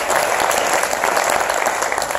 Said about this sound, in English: please give Jane a round of applause.